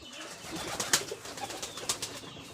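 Native desi pigeons kept at home coo softly in the background, a faint, low murmur broken by a few brief sharper ticks and rustles.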